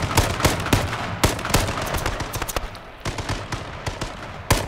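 Rapid gunfire in the battle royale game H1Z1 King of the Kill, sharp repeated shots in quick bursts and single cracks, loud and close, with little else around them.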